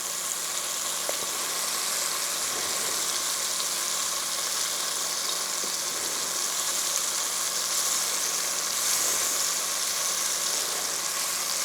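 Chunks of beef stew meat sizzle steadily as they brown in a pan, a continuous, even hiss with no pauses and no talking.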